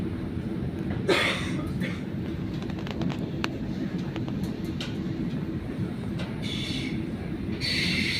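A train in Italy rolling along at a steady rumble, with faint rail clicks and a few brief high squeals from the wheels.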